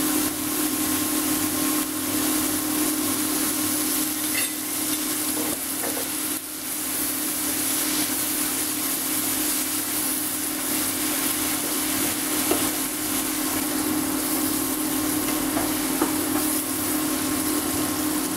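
Onions sauté in vegetable oil for sweet and spicy chicken, a steady close sizzle and hiss that runs unbroken over a low background hum, with no talking.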